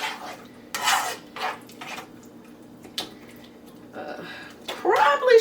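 Sugar and butter being mixed into a peach pie filling in a pan, with intermittent scraping and clinking strokes and soft wet rubbing, moderately close and fairly loud.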